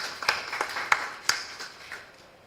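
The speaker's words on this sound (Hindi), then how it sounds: "ताली बजाओ जरा" An audience at a spiritual discourse claps in a few sharp, scattered bursts that fade into light applause.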